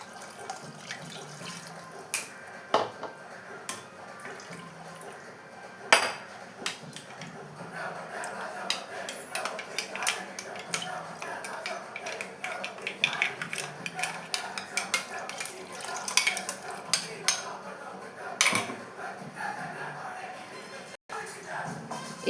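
Water is poured from a cup into a pot of chicken biryani, splashing and trickling in bursts with spoon clinks, while someone speaks over the kitchen sounds.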